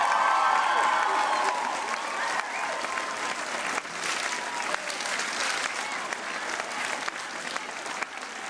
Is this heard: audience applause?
yes